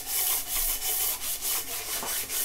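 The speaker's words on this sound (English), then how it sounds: "I know some people are probably going to freak out on the sanding of the deck" Rhythmic strokes of sandpaper or a sanding block across the flat deck surface of an LS engine block, a close, steady rasping rub repeating several times.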